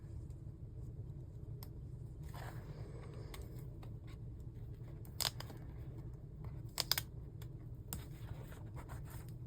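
Scissors cutting paper stickers for a journal spread, faint scattered snips and crisp paper rustles over a steady low background hum, with a few sharper cuts near the middle.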